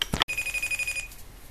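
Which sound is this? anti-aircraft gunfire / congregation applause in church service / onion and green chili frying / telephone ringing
telephone ringing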